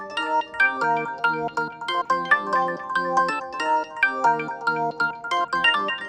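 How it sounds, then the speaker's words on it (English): A Korg M1 "Tech Code Organ" preset layer plays a bright, stabbing organ-house chord pattern in a steady rhythmic groove, loud and alone with no voices. "So this just looks to be a Korg M1 preset called Tech Code Organ"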